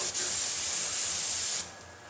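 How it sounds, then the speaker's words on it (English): A spray gun coats a door with glaze in a steady, loud hissing spray lasting about a second and a half, then dropping to a soft residual hiss. "we can do that with this particular gun, coating the whole door"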